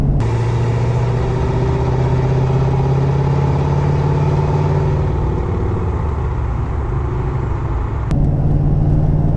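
A Ford 6.7 Powerstroke diesel truck with a tuned transmission cruises in third gear at about 1,600 RPM, heard from the cab as a loud, steady, low engine drone with a brief shift in tone near the end.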